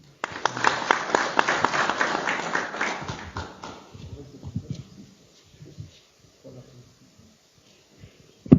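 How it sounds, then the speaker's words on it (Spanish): An audience applauds at a chamber of commerce event in Cayambe, with dense clapping for about three seconds that thins into scattered claps and fades out, followed by low background murmur. "Un aplauso, por favor."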